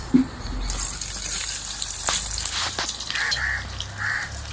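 Chopped onions dropped into hot oil while cooking chicken, a sudden splash followed by a steady hiss and sizzle, close and fairly loud, with faint clatters of a utensil.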